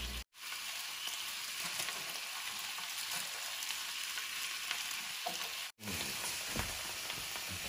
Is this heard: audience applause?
no